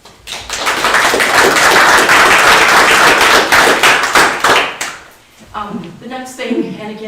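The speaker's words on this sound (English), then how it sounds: "so I'd like to take just a moment and give them both an applause" Attendees at a town board meeting clap together for about five seconds, a loud, busy patter of hands that tapers off abruptly. A voice starts speaking right after the applause fades.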